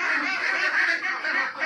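Farm-kept domestic ducks quacking together in a short, continuous, fairly close chorus of nasal calls, with no talk.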